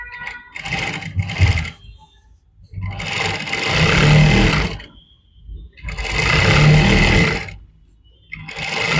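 Sewing machine stitching a neck strip on a kurta, running in long loud bursts of rapid mechanical whirring separated by short pauses, with no talk over it.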